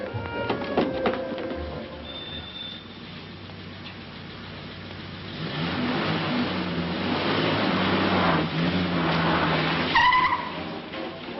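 A car in a vintage Andy Hardy film with Mickey Rooney pulls away as a rising engine roar swells midway, with a brief tyre squeal near the end after quieter opening sounds.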